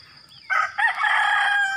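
A rooster crows close by in a mountain village, one loud, sustained cock-a-doodle-doo starting after a brief quiet pause, with no talking over it.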